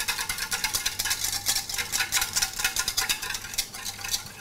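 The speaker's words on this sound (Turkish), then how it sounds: "Bunu şöyle güzelce karıştıracağım." A spoon stirs milk, oil and salt briskly in a bowl, making a rhythmic, close scraping and clinking against the sides with no speech.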